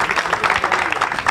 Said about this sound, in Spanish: Gràcies, un aplauso.